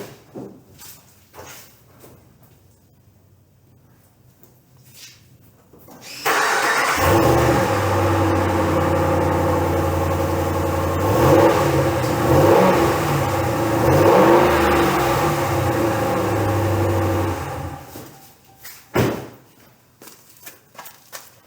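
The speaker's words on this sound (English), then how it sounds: "I bought a truck with a V8." A V8 pickup truck engine starts up and idles, revs loudly in several swelling bursts for about ten seconds, then shuts off, with quiet stretches before and after.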